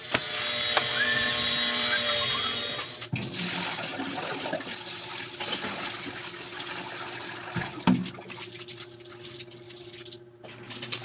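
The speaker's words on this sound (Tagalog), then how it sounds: "Buhusan natin ng tubig" Water poured into an ES 2000 dishwashing machine during a leak test, first a loud steady gushing rush, then fading to trickling, dripping and draining as the flow eases.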